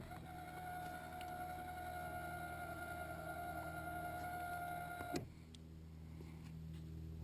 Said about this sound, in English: we're going to time the trolling motor to do 360 with my iPhone